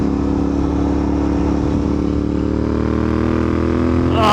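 A Royal Enfield Interceptor 650 motorcycle with dual slip-on exhausts rumbles steadily and loudly up close with a deep, throaty exhaust, rising in pitch as it revs near the end.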